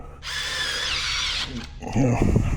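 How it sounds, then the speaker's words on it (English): A power drill drives screws into a TV back box set into a wall, a close whining spin lasting over a second, followed by someone speaking. "you can go ahead and screw these ones down and snug the box up in the wall"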